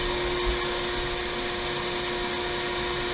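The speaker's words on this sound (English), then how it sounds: "I turn that on. I then turn my shop vac on." A shop vac hooked to an electric sander for dust extraction drones steadily and loudly with a broad, even whoosh and a constant whine throughout.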